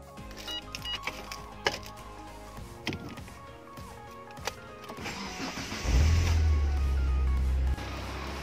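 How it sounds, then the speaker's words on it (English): A car engine cranks and catches after its 12-volt battery is recharged at home, settling into a loud steady idle rumble that follows a stretch of clicks and handling noises. "Time to start the car."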